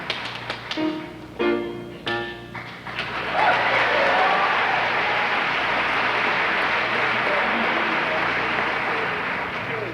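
Audience applause at a state beauty pageant, breaking out after a few seconds of short tonal sounds and taps, then swelling into a loud, sustained roar of clapping from a large crowd.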